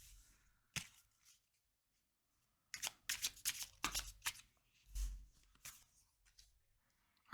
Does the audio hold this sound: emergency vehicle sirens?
no